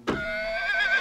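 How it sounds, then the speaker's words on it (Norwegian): A horse in a toy-town animated story gives one loud, close whinny that rises quickly and quavers for about a second. It plays alone. "men jeg fant en hest"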